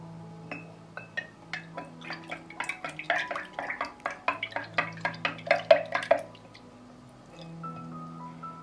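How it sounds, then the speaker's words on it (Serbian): Milk with iodine drops being stirred in a container, a series of quick clinking, tapping strokes that quicken and cluster in the middle, then ease off into quiet at the end. "I sve ću promešati."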